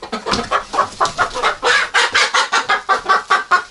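A rapid, steady run of clucks from a naked-neck hen, a dozen or so short pulses in close succession, loud and near, with no talking.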